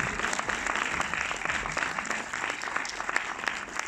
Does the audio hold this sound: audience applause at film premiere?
yes